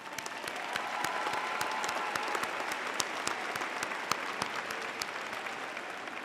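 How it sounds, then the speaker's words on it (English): A community college commencement audience applauds the faculty, a dense, sustained wash of clapping from a large crowd, steady and moderately loud. "So let's give them a round of applause."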